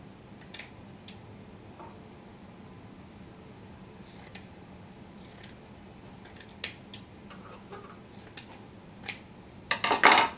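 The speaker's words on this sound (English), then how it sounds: "you're going to cut in a diagonal for every single line of strips" Scissors snipping diagonally through strips of a t-shirt to make t-shirt yarn, with sparse, close, crisp cutting clicks spread out over a quiet background and a louder rustling burst at the end.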